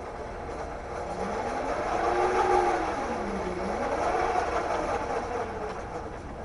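A roughly 1 HP electric motor driving a Chevy Sprint through a slipping planetary gear torque converter gives a steady mechanical hum whose whine rises and dips in pitch as the car starts moving forward.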